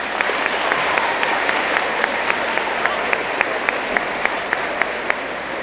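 Sustained audience applause fills a school 8th grade awards ceremony hall, dense steady clapping with sharp individual claps popping through, loud and even throughout with no voices.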